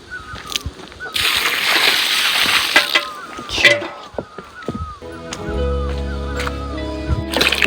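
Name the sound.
water being fetched in a bucket, splashing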